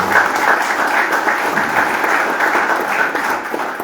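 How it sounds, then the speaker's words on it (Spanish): Crowd applause at a commemorative gathering in Montevideo marking the anniversary of the Paso de los Toros march, a sustained wash of many hands clapping at an even level from start to finish. "yo también quiero un aplauso para ellos,"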